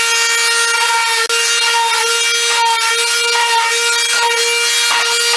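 Light hand sanding of new wood with 120-grit sandpaper between coats on a barn door: a continuous, close, dry rubbing scrape with quick repeated strokes, no voices.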